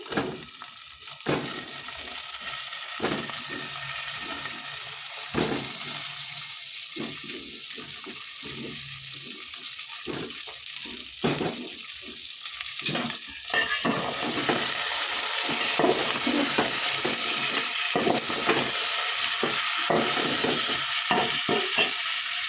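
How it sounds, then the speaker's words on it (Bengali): Cauliflower tipped into a pan of fried dal, giving a steady close sizzle broken by scraping stirs and clattering knocks, with no talk. "ডালটা ভেজে নিয়েছি, ফুলকপিটা তুলে দিচ্ছি।"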